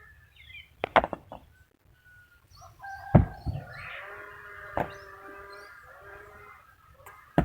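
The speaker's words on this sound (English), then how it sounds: "Just watch, guys, as you listen to the birds chirping." Scattered bird chirps and calls in a quiet outdoor setting at a village guest house construction site in Kenya, with a few sharp knocks and thuds now and then.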